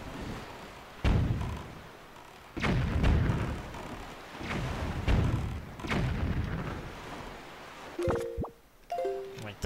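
Cannons in Legend of Zelda Wind Waker fire several booming shots in a steady rhythm, each a heavy thud with a trailing rumble, followed near the end by short chiming game sound effects.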